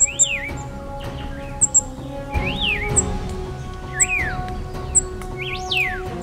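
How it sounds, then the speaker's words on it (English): A monarch bird calls in a forest, repeated rising-and-falling whistled notes with sharp chirps every second or so, clear and fairly near over a steady background hum. "The monarch's partner has become aware of the danger. Its calls resound throughout the forest."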